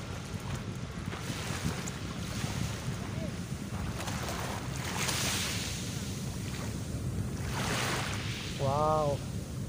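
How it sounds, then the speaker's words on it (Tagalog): Surf rolls and breaks on a sandy beach in a steady wash of water noise with wind buffeting the microphone, and a voice speaks briefly near the end. "Are-review yung hampas ng tubig."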